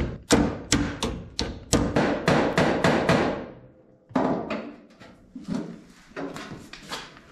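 A door on a 1959 Dodge Coronet is tapped into place during reassembly. A rapid series of sharp, loud metallic knocks comes first, then a brief pause and a few more scattered hits, all close and without talk.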